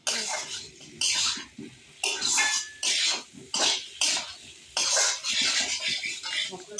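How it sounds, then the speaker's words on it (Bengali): Potato chunks cooked down with spices in a pan, stirred in bursts of scraping and sizzling with utensil knocks against the metal, rhythmic and close, separated by short pauses, with a brief spoken word. "এবার এই সমস্ত মশলার সঙ্গে আলুগুলোকে 3 থেকে 4 মিনিট একটু কষিয়ে নিতে হবে"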